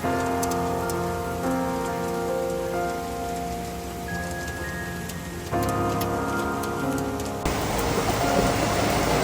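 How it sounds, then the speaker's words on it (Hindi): Heavy rain falls steadily in Karachi in a dense patter, with a few sharper drips standing out against the constant wash. "पहले तो सुबह हुई थी ज़बरदस्त वाली बारिश, धमाकेदार, और अब फिर से हो रही है"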